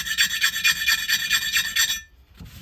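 A diamond file rasps lightly back and forth across the edge of an antique bowl, a quick run of about a dozen close, even scraping strokes that stop abruptly near the end, followed by a faint tap.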